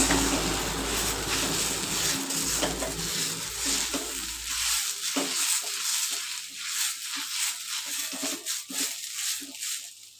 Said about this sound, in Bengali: ব্ল্যাক সল্ট আর ব্ল্যাক পেপারটা ভালো করে মিক্স করে নেব